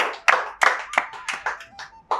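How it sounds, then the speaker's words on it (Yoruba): Audience members clap on a Yoruba-language TV game show. A handful of sharp, close claps come in a loose, uneven rhythm over about two seconds, with no talk. "Ẹ bá ń pàtẹ́wọ́ fún mi"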